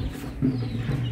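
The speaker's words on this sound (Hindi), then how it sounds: "बड़े बड़े मुर्गिया है, बहुत सारे मुर्गी के बच्चे हैं, ची ची ची ची ची ची ची कर रहे हैं सब" Chickens, big hens along with many chicks, cluck and call close by at a farm in Gurgaon, in short overlapping bursts with no pause.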